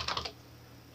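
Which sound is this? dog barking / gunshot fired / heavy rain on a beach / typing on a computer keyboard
typing on a computer keyboard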